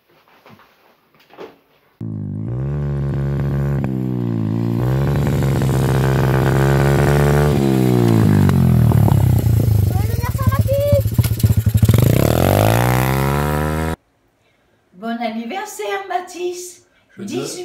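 A motorcycle engine revs loud and close for about twelve seconds, its pitch climbing, wavering and then falling away, with short bursts of talk before and after.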